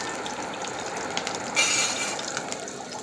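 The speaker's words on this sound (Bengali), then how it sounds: "এখানে একটু সর্ষে আর শুকনো লঙ্কার ফোড়ন দিয়ে দেবো" Mustard seeds and dried red chillies tempering in hot oil in a Bengali kitchen, a steady close sizzle with light crackle that flares louder for a moment midway, with no talk.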